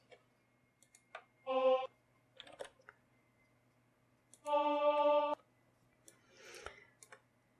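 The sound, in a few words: computer keyboard typing notes into Harmony Assistant notation software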